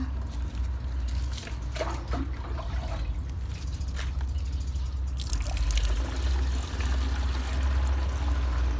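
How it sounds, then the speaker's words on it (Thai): About ten litres of water is poured steadily into a container in a vegetable garden, giving a continuous splashing trickle that stays even in loudness throughout, with no talking. "เติมน้ำลงไปเลยค่ะ น้ำ10 ลิตรนะคะ"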